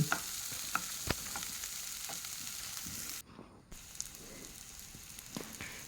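Tomatoes sautéing with salt in a pan for a homemade chutney, giving a steady close sizzle with scattered spatula scrapes and pops and a brief dip in the middle.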